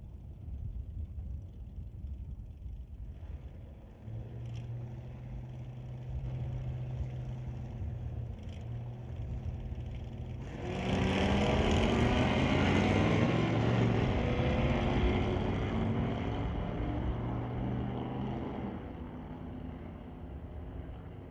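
Drag race between a Buick and a Ford Mustang at a sportsman race, with a steady engine drone that swells into a loud roaring run near the middle and carries on to the end, with no voices.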